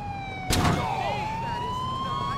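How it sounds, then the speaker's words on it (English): An ambulance siren in GTA IV's LCPDFR police mod wails in with a sudden loud onset, its rising and falling tone sweeping steadily over a low engine rumble. "Here comes an ambulance."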